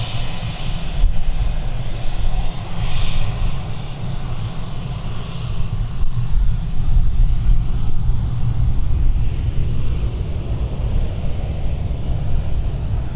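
Jet engines of a medical plane roar loud and steady at Stansted Airport, running in reverse thrust as it turns, with a sustained rumbling drone and rushing wind noise throughout the clip.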